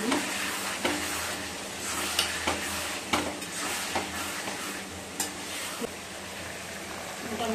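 Mutton and pre-fried potatoes being stirred in a pan while the meat braises, giving a steady sizzle with intermittent scraping clacks of the spoon against the pan, close and moderately loud.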